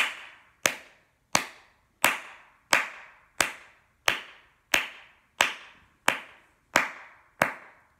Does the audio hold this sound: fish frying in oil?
no